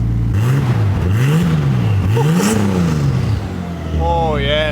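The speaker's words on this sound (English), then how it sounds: "That's a smooth engine." A built Nissan RB26 engine revving in rising and falling sweeps, loud and close, a smooth deep note that climbs and eases back repeatedly.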